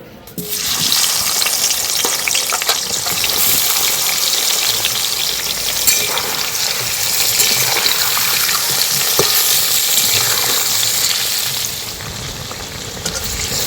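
Salted, turmeric-coated mango pieces fry in a wok of hot oil with a steady, loud sizzle and bubbling that carries on without a break, alone and close.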